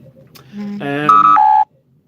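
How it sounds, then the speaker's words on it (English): A series of electronic phone tones during a live stream, a low steady tone stepping up into harmonic-rich beeps that end on two higher pitched notes, loud and clear with no talking over them. "So I'm getting phone calls now."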